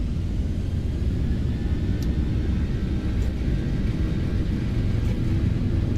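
Boeing 737-800 jet airliner rolling for takeoff in a flight simulator video game, a steady loud low engine rumble with faint rattles and no talk.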